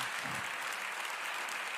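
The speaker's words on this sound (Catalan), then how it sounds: "un fort aplaudiment" An audience gives Miquel a warm round of applause after a talk, a dense, continuous patter of many hands filling the room without a break.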